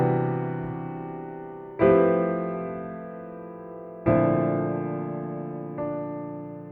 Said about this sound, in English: And they are the major 9 sharp 11 chords,